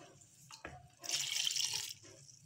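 About one and a half glasses of water poured into a cooking pot of mutton with peas and turmeric, a brief close splashing rush lasting about a second amid light kitchen noise.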